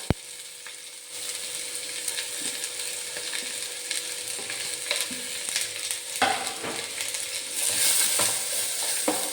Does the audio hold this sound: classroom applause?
no